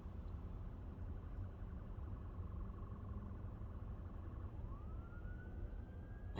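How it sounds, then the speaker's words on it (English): A distant police car siren wails faintly under steady road and traffic rumble, its tone rising near the end as it draws closer. "I hear a cop car or a siren, but I don't see one."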